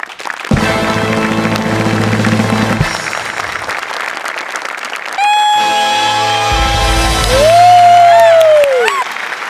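Applause and cheering from a studio audience at a Marathi comedy show. It sounds as a steady, dense clatter of clapping with scattered whoops, mixed with loud musical tones throughout.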